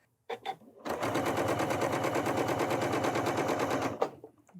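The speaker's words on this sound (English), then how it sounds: "I'm going to stitch the seams on these pieces here across these 2 9 patches." A Janome 9480 sewing machine stitches seams across nine-patch quilt blocks in one steady, rapid run of about three seconds, loud and close, with brief handling noises before and after.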